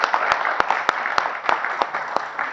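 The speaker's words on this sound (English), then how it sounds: "Big round of applause to Akash." An audience claps steadily for a competition winner at a Sunday satsang gathering, a dense continuous applause from a group with sharp individual claps standing out throughout.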